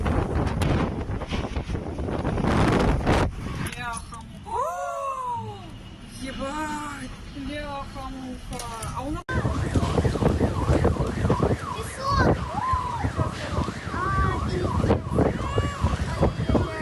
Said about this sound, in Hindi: कजान के इलाके में खौफनाक तूफान से बड़ी तबाही मची है।